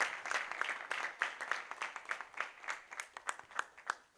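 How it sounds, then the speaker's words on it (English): At a European young chef competition final, an audience applauds chef Dimitrios with faint, distant clapping, the individual claps distinct and fairly regular throughout. "Another round of applause for Dimitrios."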